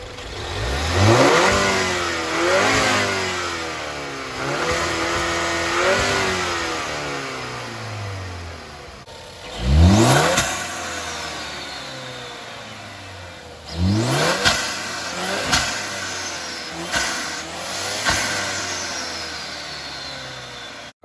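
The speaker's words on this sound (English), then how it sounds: "Here's a quick clip of what the car sounds like before and after the install." A 2015 Ford Fusion EcoBoost fitted with a K&N cold air intake revs repeatedly from idle, each throttle blip rising and falling, with several sharp, loud bursts later on; no talking.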